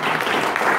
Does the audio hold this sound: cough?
no